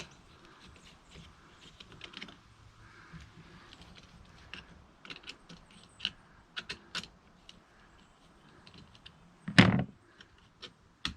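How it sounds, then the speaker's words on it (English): Small metal clicks and taps from a 3/16 Allen wrench loosening cable clips on a Lowrance Ghost trolling motor, scattered faint ticks with one louder knock near the end, no talking. "So this involves using a 3/16 ounce Allen wrench, and we'll just go ahead and loosen all of these."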